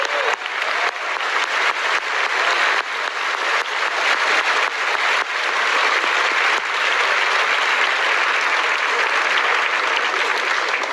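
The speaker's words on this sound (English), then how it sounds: "let's give a round of applause to all of our leadership candidates" Sustained, loud applause from a crowded audience for candidates in a Canadian Conservative leadership debate, a dense continuous wash of clapping that holds steady without voices for over ten seconds.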